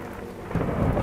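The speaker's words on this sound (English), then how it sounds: "the first thunder greeted the town" Thunder as a sound effect in a horror audio drama, a low continuous rumble that swells partway through, mixed with steady rain.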